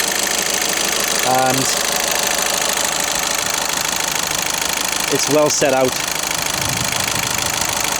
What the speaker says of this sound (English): I hope you can hear what I'm saying over the ticker ticker ticker of the engine